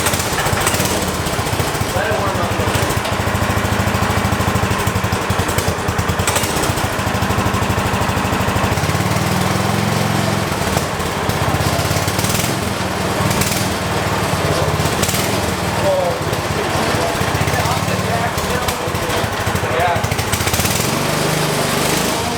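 A 420cc engine on a $50 offroad go kart runs loudly and continuously close by, with a rough, chattering idle that rises and falls slightly over a steady low throb.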